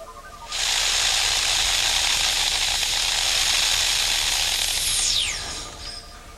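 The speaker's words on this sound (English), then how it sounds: "Blow across the top of the one in the fluid, the low pressure tube, and up it comes in a fine spray." A strong, steady breath of air is blown across the top of a straw standing in liquid, a loud continuous hiss lasting several seconds before it tapers off, with a brief squeaky whistle at the end.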